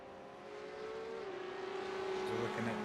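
Race cars in the iRacing sim, a Radical or GT3 Porsche field, drone steadily with a sustained engine tone that shifts pitch midway, continuous and moderately loud with no talk.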